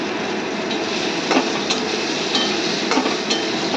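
Eggplant pieces and tender neem leaves fry in hot oil in a pan, making a dense, steady sizzle with a few soft knocks of a spatula stirring through it, close and fairly loud.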